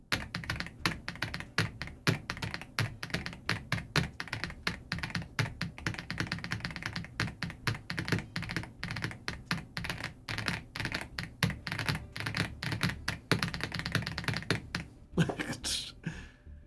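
Fast, continuous typing on a new keyboard with subdued clicky switches gives dense, close key clicks and thunks for most of the stretch, then ends in a brief different rustle with no talk.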